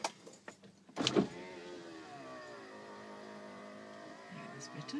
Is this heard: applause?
no